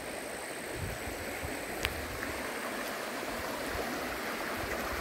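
Stream water flowing through a cocoa farm, a steady broad rushing and gurgling hiss that holds constant throughout, with one faint tick partway and no talking.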